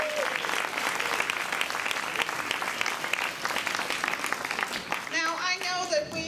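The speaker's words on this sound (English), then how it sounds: "let's give the Congresswoman a round of applause" An audience breaks into sustained, dense applause for a Congresswoman at a Kennedy-King gala, loud and steady throughout, with cheering voices rising near the end.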